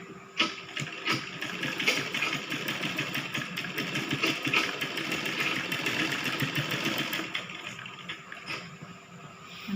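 A sewing machine runs in a continuous mechanical whir with rapid rhythmic ticking while a baby frock is stitched, the motor holding steady for several seconds before easing off near the end.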